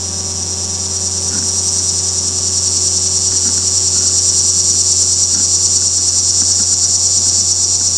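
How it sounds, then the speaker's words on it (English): Linne's cicada singing, a loud continuous high buzzing rattle like a shaken salt shaker, swelling gradually in volume and holding steady throughout, alone without voices. "Its song starts quietly before building in volume and becoming a rattle that resembles a salt"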